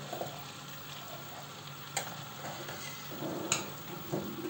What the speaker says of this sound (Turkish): Tereyağı da köpürdükçe köpürdü arkadaşlar